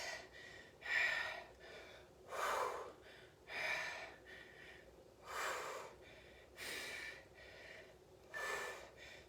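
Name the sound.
heavy breathing during a HIIT workout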